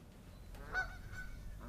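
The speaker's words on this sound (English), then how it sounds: "Canadian goose" A Canada goose gives a single honk around the middle of a short, quiet outdoor stretch, moderately distant and alone, with faint background noise before and after.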